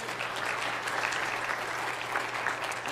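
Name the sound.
church congregation applause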